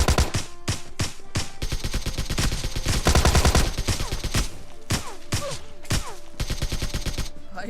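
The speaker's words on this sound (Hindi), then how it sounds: "यहाँ पर जैसे आता हूँ देखो कुछ बोट्स फायर हो रहे थे" Bots in the mobile shooter PUBG Lite, on the Old Basin map, fire loud, dense volleys of in-game gunshots, with rapid bursts and single cracks following each other almost without a break.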